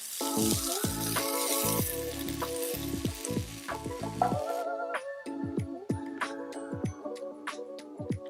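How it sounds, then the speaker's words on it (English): Fresh broad beans sauté in a hot pan with a loud, bright sizzle that fills the first few seconds and then cuts off. Scattered clinks and soft stirring sounds follow. "I'm then going to quickly add my fresh broad beans."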